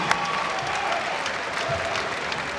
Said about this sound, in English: how about a big round of applause for both fighters as they go the distance